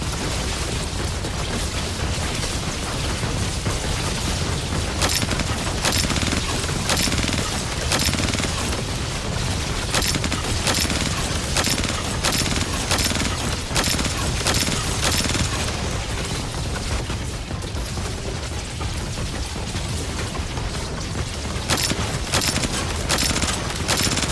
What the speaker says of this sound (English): Spinning gun! I've died from those things so many times.